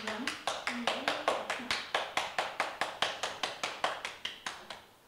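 Someone standing beside a koi pond claps their hands in a steady, even rhythm, about five claps per second for several seconds, crisp and close, while someone speaks briefly underneath.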